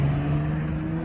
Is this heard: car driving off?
yes